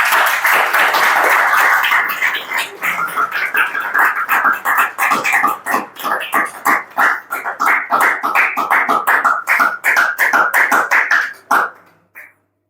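A crowd applauds at a Republic Day programme on an anti-addiction theme. The clapping is loud and sustained for about eleven seconds, with sharp individual claps standing out, before it stops abruptly.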